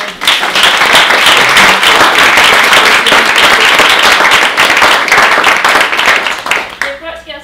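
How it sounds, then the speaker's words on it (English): A room full of people clapping in sustained, loud applause for several seconds before it tapers off and a voice begins. "Please do give them a round of applause."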